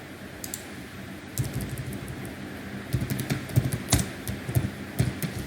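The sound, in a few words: typing on a computer keyboard in Excel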